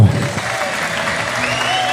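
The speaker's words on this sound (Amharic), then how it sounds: "አጨብጭቡ።" An audience applauds together at a church gathering, dense clapping that holds steady and loud throughout, with some voices mixed in.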